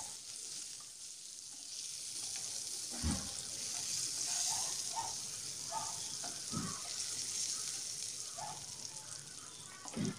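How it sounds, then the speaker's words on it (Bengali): Eggs fry in oil in a pan, giving a soft steady sizzle with a few faint clinks of stirring or handling, quiet and close, with no talk. "ডিমগুলোকে এখন একটু ভাজার জন্য দিয়ে দিলাম।"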